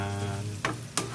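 Chopped onion, a whole medium one, drops into a hot pan for chicken curry, bringing two quick bursts of sizzle over a steady low hum of cooking.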